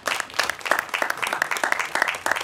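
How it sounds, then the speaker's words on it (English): Audience applause at a junior recital, a steady patter of many hands that stays fairly close and even throughout, with scattered sharper claps standing out. "Can we all just give a big round of applause?"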